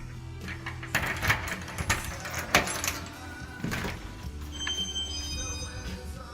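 A set of keys jingles and clinks as it is picked up and handled indoors at a house with a wall patch drying, with several sharp metallic rattles over a few seconds and some faint background noise.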